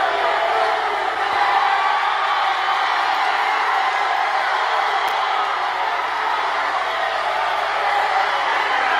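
A crowd at a Trump rally in the South reacts with a continuous loud roar of yelling, whooping and cheering, sustained and dense throughout, with no single voice standing out.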